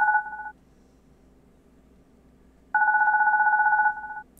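An unidentified caller's phone rings in the horror game Corpse Party as two-tone electronic bursts, one short tone cut off, then a longer ring after a pause, clear and close against a low hum.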